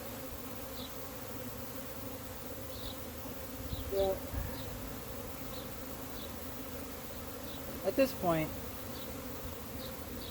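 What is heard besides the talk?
honey bees buzzing angrily during hive inspection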